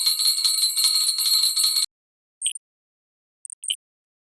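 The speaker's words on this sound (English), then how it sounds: "Here are some jingle bells." Jingle bells shake in a dense, bright continuous shimmer for nearly two seconds, then fall silent, followed by a few brief, isolated filtered chimes.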